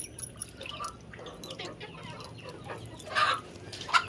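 Chickens cluck and squawk as they come out of a village coop, fairly close, with sharper calls near the end and faint dripping or splashing sounds in between.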